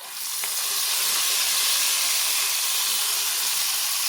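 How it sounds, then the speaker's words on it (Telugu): Ginger, garlic, onion and green chilli paste sizzles steadily in hot oil over a medium flame, a loud, continuous hiss that rises in the first half-second and then holds. "అల్లం, వెల్లుల్లి బాగా ఫ్రై చేసుకొని ఆయిల్ మొత్తం పైకి వచ్చే వరకు మనం ఇలా మీడియం ఫ్లేమ్లోనే కలుపుకుంటూ ఉండాలి"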